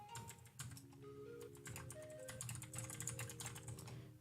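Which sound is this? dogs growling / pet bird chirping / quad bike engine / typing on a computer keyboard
typing on a computer keyboard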